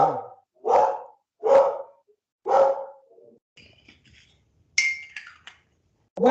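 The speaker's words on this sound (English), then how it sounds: "Dog is barking somewhere." A dog barks somewhere nearby, four sharp barks at a steady pace, followed by faint clinking and then another bark cut off at the end, with no talking.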